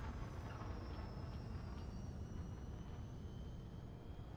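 Spaceship engine on takeoff in Elite: Dangerous, a steady low rumbling roar with a faint high whine drifting above it, continuous and fairly quiet.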